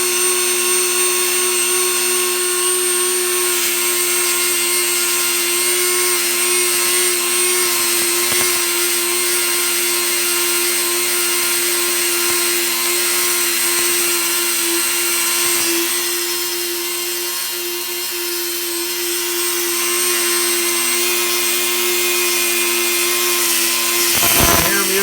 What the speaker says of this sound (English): Over the whine of the Dremel. This is where I'm cutting the screw head slot.